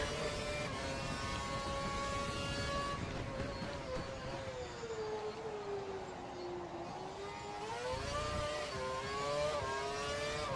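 A Formula 1 car engine in the F1 2012 racing game at the United States Grand Prix, lapping a slower car: a sustained high, loud whine whose pitch sags through the middle and climbs again, with no talk.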